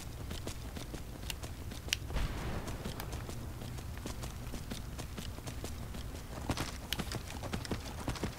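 Horse hooves clop along steadily in the Skyrim Dawnguard video game, a continuous rhythmic patter of galloping footfalls at moderate volume with faint background noise and no talk.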